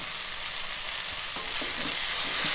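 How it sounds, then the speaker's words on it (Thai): Vegetarian yellow noodles stir-fried over high heat on an infrared stove, a continuous loud sizzle with occasional scraping stir strokes of the spatula growing slightly louder toward the end, no voices. "เวลาผัดถ้าผัดไฟแรงๆนะคะ จะอร่อย เขาจะหอมเนาะ"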